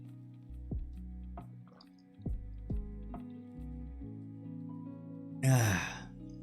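A person takes a drink of water, with soft wet sounds and small drips, then lets out one loud breathy exhale near the end, over quiet tonal background music.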